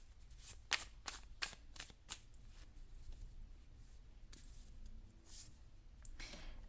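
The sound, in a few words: oracle cards being shuffled and drawn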